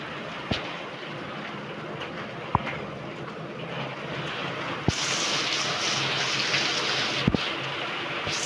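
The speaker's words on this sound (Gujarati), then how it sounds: "તો ફૂલ વરસાદ બતાવું તમને." Heavy rain falling outside a house, a steady hiss that swells louder and brighter halfway through, with a few sharp knocks and taps standing out against the continuous wash.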